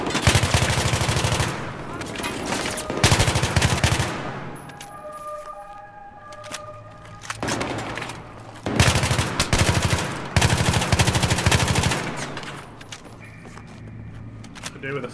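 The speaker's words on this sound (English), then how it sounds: "they got like machine guns or something" Enemy machine-gun fire in the Battlefield 3 campaign comes in loud, dense automatic bursts, roughly four long volleys separated by quieter gaps that carry faint tones and background noise.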